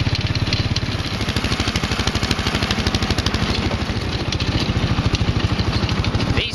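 A go-kart with a Predator 420cc engine drives a muddy trail, its single-cylinder engine chugging loud and steady in a fast, even pulse throughout, close to the microphone with no talk.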